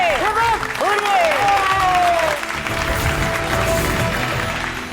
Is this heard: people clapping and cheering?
yes